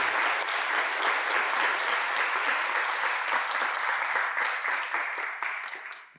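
A church congregation applauds the visiting children during a sermon, a steady, dense round of clapping that fills the room and fades out at the end.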